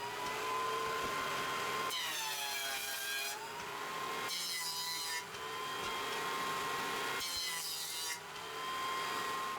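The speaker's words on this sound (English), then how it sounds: "So to the joiner it is." A wooden 2x4 board fed through a jointer: a steady whining motor hum broken by three louder, rough cutting passes as the board is planed, with no talk.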